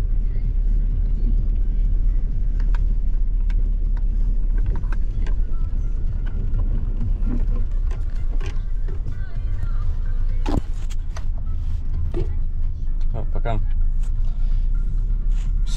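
Car pulling away from a goose-hunting tent camp, with a constant low engine rumble and road noise filling the interior. Faint knocks and rattles surface now and then, and someone talks throughout.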